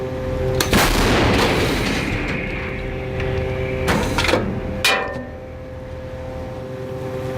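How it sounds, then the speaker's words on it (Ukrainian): A heavy artillery gun, a Bohdana self-propelled howitzer, fires with a deep blast, followed by more booming reports and rumbling echoes against steady engine noise. "Постріл!"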